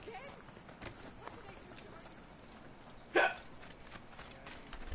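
A single sharp sneeze bursts out suddenly and loud, standing well above the quieter game sounds running underneath.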